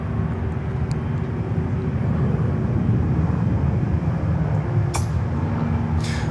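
An Aeromexico airliner arriving at Miami airport gives a steady, fairly loud broadband roar that holds level for the whole stretch, with no voices.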